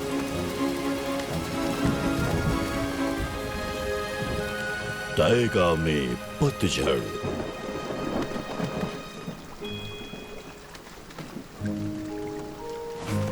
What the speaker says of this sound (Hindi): अरे नहीं, बारिश होने वाली है।